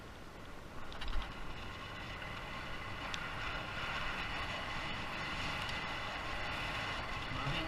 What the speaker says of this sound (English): I can hear the wind.